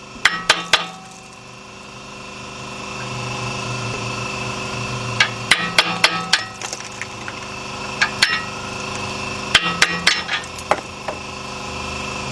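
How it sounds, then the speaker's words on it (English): Sharp metallic hammer blows knocking parts off a 2006 Kia Sportage 2.7 engine, in quick clusters of three to five strikes, separated by pauses, close and loud against a steady machine hum. "let me get a hammer, guys, so we can knock the rest of this off"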